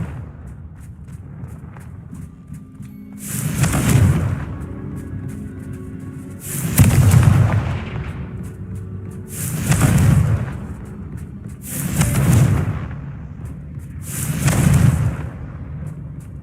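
Confringo blasting-spell explosions from a Harry Potter video game, five deep booming blasts at roughly two-and-a-half-second intervals, each with a long rumbling decay over a quiet background.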